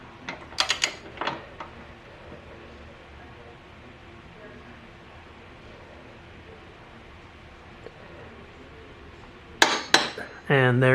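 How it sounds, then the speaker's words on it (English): A wrench tightening a 2014 Suzuki GSX-R 750 motorcycle's axle nut to 100 Newton meters, heard as sharp metallic clinks and clanks at the start, a long quiet stretch, then a louder cluster of metal knocks at the end. "Now all we have to do is to tighten the axle nut, and that's 100 Newton meters of torque."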